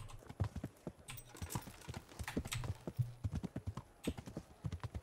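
Rapid, irregular video-game horse hoofbeats clop along on a hard surface in Kingdom Come: Deliverance, fairly quiet and steady, like a horse trotting nearby.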